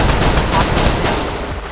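Sustained gunfire from the video game Execute, a dense, loud, continuous barrage of shots with no pauses across the short stretch.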